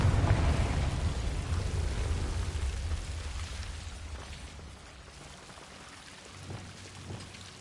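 Confringo explosion spell from Hogwarts Legacy, a loud rushing, crackling blast that slowly decays into a hissing, rain-like rumble, with a few softer thuds later.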